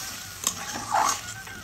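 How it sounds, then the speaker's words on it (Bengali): Water poured into a pan of frying stingray fish masala sets off a brief sizzle and bubbling hiss that swells near the end of the short, close-up burst, with no one talking. "এবার আমি পরিমাণ মতন জল দিয়ে দেব।"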